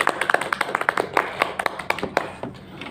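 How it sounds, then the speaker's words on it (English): A round of clapping from a small group after a class presentation, uneven sharp claps over about three seconds, fairly close, with a few faint voices underneath. "We give applause to Miss Nur."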